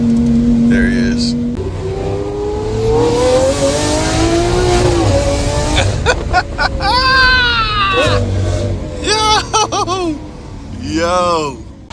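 A Lamborghini Aventador SV with a loud aftermarket exhaust roars past in a flyby, its engine note rising and sweeping through the pass, with voices and shouting around it.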